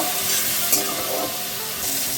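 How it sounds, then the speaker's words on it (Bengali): Brinjal pieces fry in hot oil with salt and turmeric, giving a steady close sizzle with faint stirring scrapes and no voices. "লবণ দেবো, হলুদ দেবো, বেগুনটা ভেজে নেব।"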